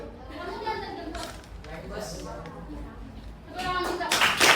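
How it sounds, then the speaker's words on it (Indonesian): Students clap in short scattered bursts under ongoing talk, building to a louder round of applause at the end. "Tepuk tangan juga"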